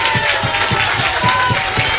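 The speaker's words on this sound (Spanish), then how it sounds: "Se va bajo los aplausos de la gente aquí de Cauquenes, Franco Triviño." A football crowd at a Chilean lower-division match in Cauquenes applauds a departing player, with rhythmic clapping and crowd noise under a commentator's voice.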